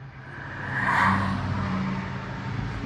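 Rush-hour road traffic drones with a low engine hum as a car swells past at close range, then the steady roar of vehicles carries on with no voices.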